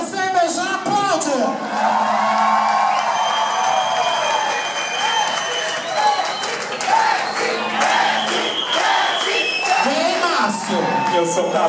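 A packed nightclub crowd claps, cheers and whoops at a drag comedy show, loud and continuous, with shouting voices mixed in throughout.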